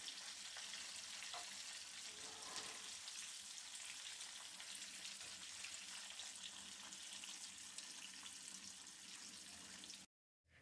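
Chillies frying in oil for peri peri bites give a dense, even hiss of bubbling oil that holds steady and close, with a faint clink early on, before stopping abruptly near the end.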